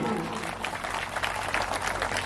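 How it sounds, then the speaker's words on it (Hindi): Steady applause from a crowd at a political campaign rally fills the whole stretch, a dense continuous patter with no gaps and no clear talking over it. "जोरदार ताली"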